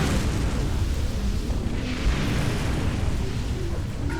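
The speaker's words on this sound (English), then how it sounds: "That explosion's gonna nearly kill me." A spaceship explodes in the Star Trek Online space combat game, a loud continuous rumbling roar that fills the whole moment with a heavy low-end boom and no speech over it.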